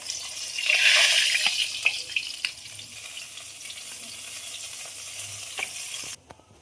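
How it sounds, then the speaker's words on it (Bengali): Bata fish fry in hot oil with a loud, continuous sizzle. Scattered clicks of stirring or turning sound through it, and the sound cuts off abruptly near the end. "তেল গরম হয়ে গেছে, আর আমি মাছ ভাজার জন্য ছেড়ে দিই"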